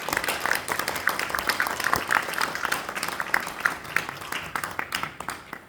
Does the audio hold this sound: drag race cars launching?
no